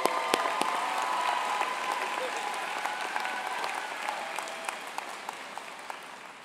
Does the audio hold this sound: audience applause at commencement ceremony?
yes